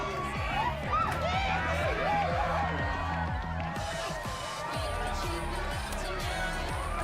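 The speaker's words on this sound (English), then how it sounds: "And a mosh pit opens in the smoky dark in front of the stage." A concert crowd churns in a mosh pit in front of the stage in a smoky, dark venue: a dense, loud wall of shouts, whoops and thumping bodies runs without a break.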